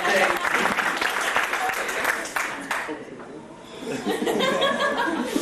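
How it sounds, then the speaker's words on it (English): Wedding guests clap in a loud, sustained round of applause mixed with chuckles and laughter, with a brief dip in the middle before the clapping swells again. "A big round of applause for Noel."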